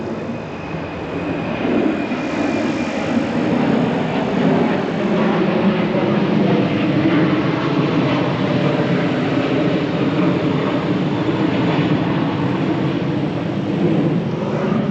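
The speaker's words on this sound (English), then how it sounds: "They're flying right over the church today, so it's much louder than the last couple of visits" A fixed-wing airplane passes low over a church and its cemetery, a loud, broad, steady engine roar that holds for the whole stretch without fading, with no one speaking.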